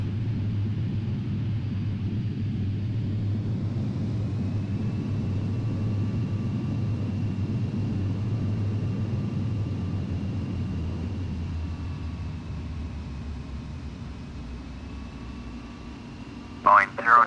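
Boeing 777-300 engines in a flight simulator give a continuous low rumbling drone with a faint steady whine above it, easing slightly later on, followed at the end by a short burst of radio-like voice.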